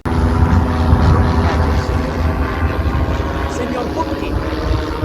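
A plane flying, heard as a loud, steady, rumbling engine drone with a churning low roar that holds for several seconds, close and continuous.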